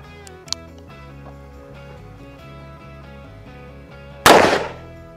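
.44 Magnum fired at homemade soft body armor: one sharp, loud, close gunshot bursting in late and decaying quickly, preceded by a steady background hum with a faint click.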